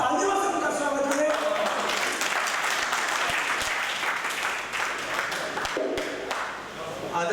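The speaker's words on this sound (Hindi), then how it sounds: "अब तालियों से उनका स्वागत करें।" Audience applause at a Hindi poetry gathering (kavi sammelan) welcoming a poet from Sehore, Madhya Pradesh: steady, dense clapping throughout, with voices talking over it near the start.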